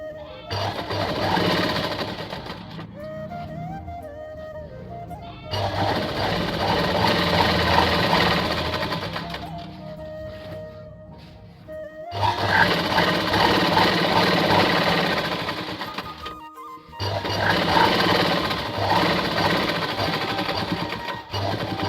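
An electric sewing machine stitching the hem of a lungi runs in loud bursts of steady whirring and rattling, stopping and restarting four times with brief quiet gaps between runs.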